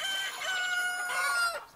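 A rooster in the video game Polda 6 crows once, loud and close, a long rising then falling cock-a-doodle-doo with a slightly synthetic, game-like quality.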